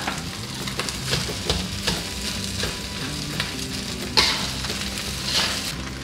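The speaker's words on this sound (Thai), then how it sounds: "พอไข่เริ่มสุกแล้วก็ใส่ข้าวสวยของเรา" Cooked rice and egg stir-fried in an oiled pan for Thai soy-sauce fried rice give a steady, moderate sizzle, broken by repeated scrapes and knocks of a spatula against the pan.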